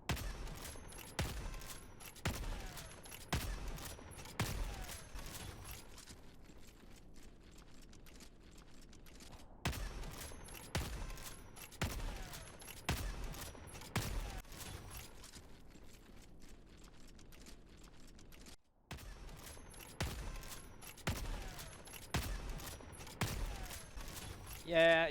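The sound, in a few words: Constitution rifle shots firing in the video game Helldivers 2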